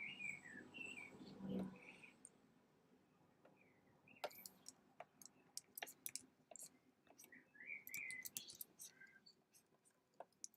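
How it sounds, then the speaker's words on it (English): Faint birds chirp and tweet outdoors, muffled through a closed window, in scattered short calls over a quiet room with soft scratching and rustling close by. "Are the birds picking up on the mic today?"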